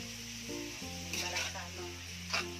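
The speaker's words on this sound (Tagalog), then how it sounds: "Lutuin ko muna siya sa mantika." Pork sizzling in a little cooking oil for adobo, a steady frying hiss with brief louder crackles, heard close over a faint background hum.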